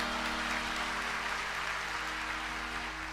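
Steady, dense clapping from a crowd, a continuous wash of applause at moderate volume with a low hum underneath.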